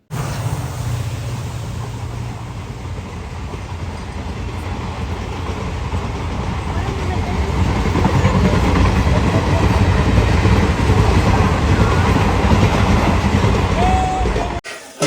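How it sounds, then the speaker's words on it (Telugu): A train passes at night beside a village, its rumble swelling steadily louder over fifteen seconds into a close, continuous rolling clatter of wagons, with no talking. "ఇప్పుడు నైట్ టైం కూడా వచ్చే ట్రైన్స్ కొన్ని ఉన్నాయి."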